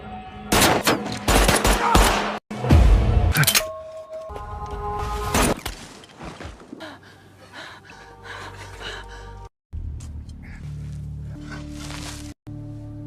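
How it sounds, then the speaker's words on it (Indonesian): Gunfire from robbers shooting at a car in a film scene, with loud bursts of shots and impacts up front, followed by calmer rumbling and tonal film score. "muncullah perampok yang menembaki mobil mereka sekaligus menewaskan Dr. Amina"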